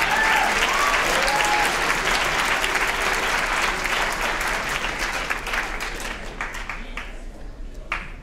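Loud applause from an audience at a school writers' week reading, many hands clapping in a thick continuous patter that gradually thins and fades toward the close.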